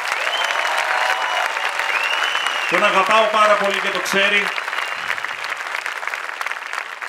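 Audience applause at a live Greek comedy show, a dense continuous clapping wash throughout, loud and close, with someone speaking over it in the middle.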